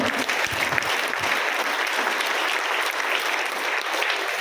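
Sustained crowd applause greets a guest speaker at a community health talk, a steady, close wash of many hands clapping that holds evenly from start to finish with barely any pause.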